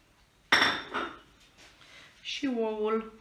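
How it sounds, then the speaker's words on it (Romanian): Butter being worked into rice flour in a bowl, with a sharp clink of utensil against the dish followed by softer scraping. A voice speaks briefly near the end. "Și acum să amestecăm untul cu făina mea de orez."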